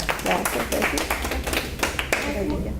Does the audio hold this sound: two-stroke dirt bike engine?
no